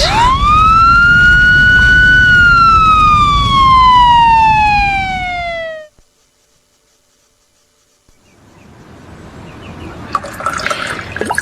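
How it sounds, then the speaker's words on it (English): Ambulance siren wails loud and close in a single long rising-then-falling sweep, then cuts off abruptly into silence before a muffled rustling background returns. "The ambulance is coming."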